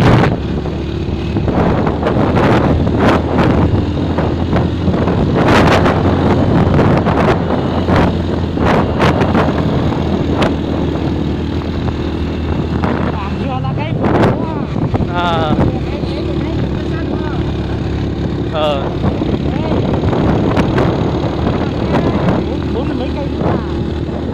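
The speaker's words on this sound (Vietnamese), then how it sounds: "gió to lắm" Strong wind buffets the microphone outdoors in the Bát Xát area of Lào Cai, a constant loud rumble and roar running throughout with brief gust bursts, while people talk over it.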